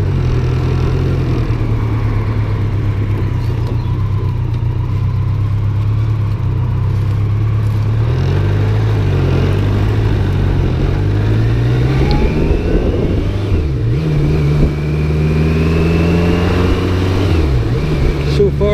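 A BMW K1200LT touring motorcycle is ridden on its first run of 2021, its engine droning steadily up close before the revs climb and dip repeatedly over the final stretch.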